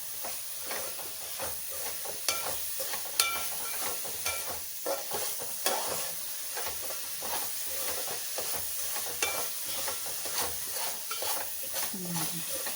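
Masala for a pulasa fish curry fries in a pan with a quiet, steady sizzle and hiss, broken by soft stirring scrapes at irregular intervals.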